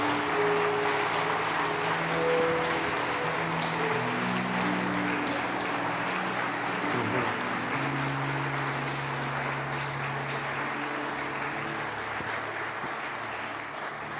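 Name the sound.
applause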